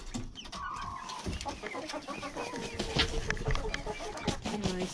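Several chickens cluck and murmur nearby in short, uneven bursts while a person talks over them.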